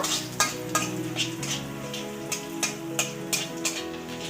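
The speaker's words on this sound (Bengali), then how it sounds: "দিয়ে গ্রেট করা রসুনটা দিয়ে দেবো রসুনটা একটু লাল লাল করে ভেজে নেব" Grated garlic and black cumin frying in hot oil with dried red chilli, a close sizzle stirred with a spoon whose regular scraping strokes tap the pan about twice a second.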